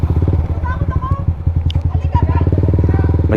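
Motorcycle engine idling and chugging close by on a muddy village road after a flood, a loud rapid pulsing beat that stays steady throughout, with voices talking over it.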